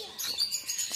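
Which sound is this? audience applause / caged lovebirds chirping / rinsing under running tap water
caged lovebirds chirping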